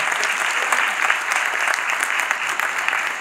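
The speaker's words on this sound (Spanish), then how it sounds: "Damos un fuerte aplauso a todos los alumnos del octavo año B" Steady applause from a school audience for eighth-grade students at a graduation ceremony, dense and continuous clapping throughout without pause.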